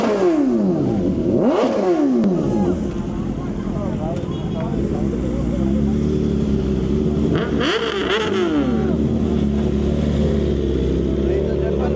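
A motorcycle with straight pipes revs hard on a Sunday group ride, with loud rising and falling engine sweeps close by. Steady road and wind rumble sits beneath the engine throughout.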